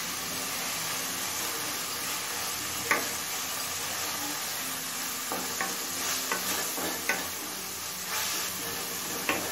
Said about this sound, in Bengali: এবার এই আদা রসুনের কাঁচা গন্ধ চলে যাওয়া পর্যন্ত মশলাটা কষিয়ে নেব।